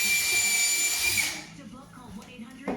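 A power drill pre-drills wood while installing a kitchen island, whining steadily up close for over a second, then stopping, followed by quiet handling noises and a short knock.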